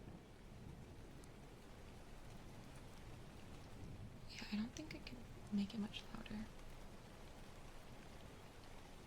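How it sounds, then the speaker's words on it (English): Steady, faint rain patters in the background of a quiet indoor ASMR stream, continuous throughout, while a soft voice talks over it. "Oh, now the rain is too audible?"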